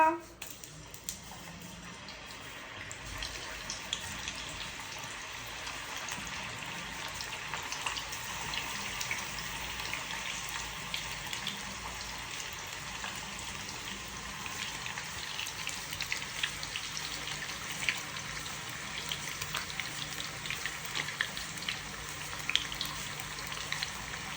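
Oil sizzles and crackles steadily as banana slices fry into chips in a pan, a dense continuous hiss with scattered pops, close up.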